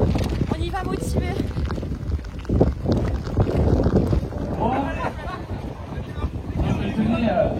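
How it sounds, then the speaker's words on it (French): Steady wind rushes and buffets the microphone outdoors at the start area of a 26 km mountain trail race on Mont Ventoux, continuous and fairly loud beneath people talking. "il y a du vent"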